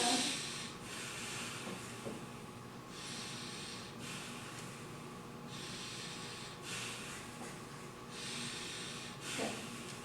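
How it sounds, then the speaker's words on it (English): A patient breathes in and out during a chest examination, with several slow, audible inhales and exhales in a steady rhythm, close and fairly faint, with no talking over them. "So inhale and exhale."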